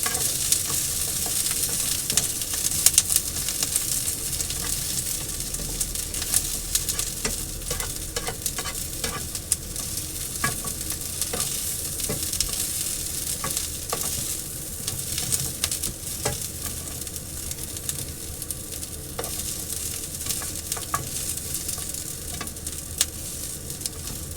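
Garlic sizzles in a hot frying pan with a steady bright crackle. Intermittent scraping and clicks of stirring run beneath it, close and alone with no voices.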